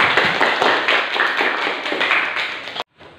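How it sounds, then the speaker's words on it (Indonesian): Hands clapping from a school audience in Indonesia, a loud, even burst of many claps that continues for a few seconds and then cuts off abruptly. "Tepuk tangan dulu untuk kita semua."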